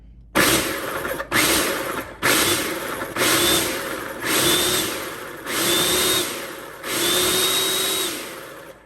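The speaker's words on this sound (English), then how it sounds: "What I like to do when I add the sugar is to give this a light pulse." A food processor pulses sugar into flour for scones in a series of about seven loud motor bursts, each starting with a whir and holding a rising whine, separated by brief stops, close up and with no talking.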